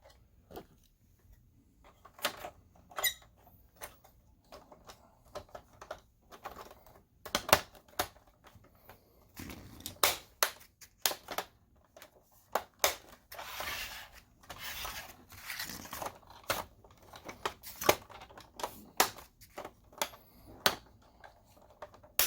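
Plastic upper cover of a BenQ W1070 DLP projector being pressed down and clipped into place during a repair, giving a scattered series of sharp clicks, taps and rubbing sounds at close range with no talk.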